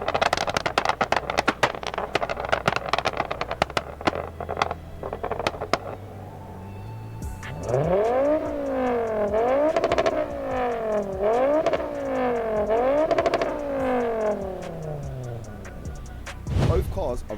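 A Ford Focus RS and a Ford Focus ST, both with aftermarket traction control, rev repeatedly, rising and falling in pitch through several loud pulls, after a stretch of clicking and idling.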